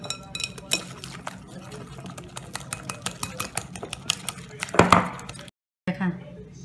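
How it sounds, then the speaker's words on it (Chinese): Flour and water being stirred into pancake batter for a Korean zucchini pancake, with wet, irregular sloshing and clinking against the bowl, a louder splashy burst near the end, under a speaking voice. "下边我们把面粉和匀和水混合"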